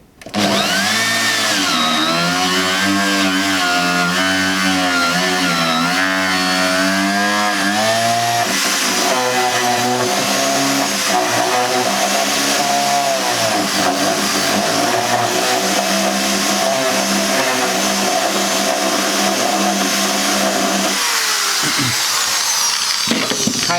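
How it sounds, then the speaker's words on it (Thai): A power drill with a JD No. 12 bit bores through the body of an acoustic guitar during a pickup installation, a loud continuous whine with a shifting pitch that runs unbroken for the whole stretch, then drops as the cutting eases near the end. "แล้วก็ใช้ดอกสว่านเจดีเบอร์12 นั่นแหละทะลวง"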